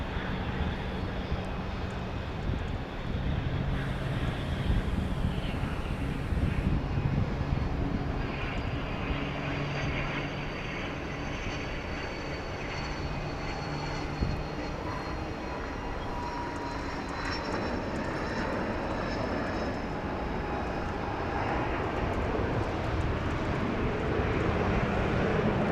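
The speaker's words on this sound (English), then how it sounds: "This is a Cessna Citation Ultra." A Cessna Citation Ultra business jet at Dallas Love Field produces a sustained loud roar with a high turbine whine, rising and falling slightly as it moves across the airfield, without any voices.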